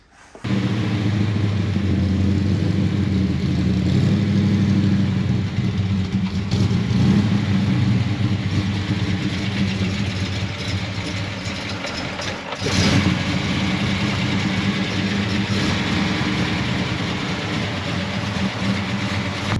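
A 1972 Ford XY GT runs steadily, its engine a loud, close, continuous low rumble with a brief surge partway through and no talk over it.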